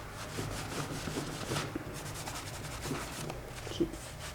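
Fabric rubbed by hand against a small junk journal's spine, pressing two layers of upholstery fabric down; a steady, close, soft scuffing and brushing that runs continuously with slight swells and one brief sharper tap near the end.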